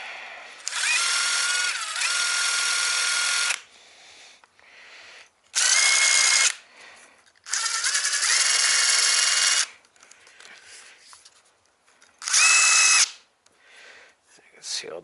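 Wire brush scrubbing corrosion off a corroded, salt-crusted Fisher snow plow connection part, heard as loud, close whirring bursts of a few seconds each, separated by quiet gaps.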